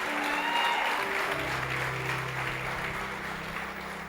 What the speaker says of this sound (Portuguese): Dá uma salva de palmas, dá um glória aí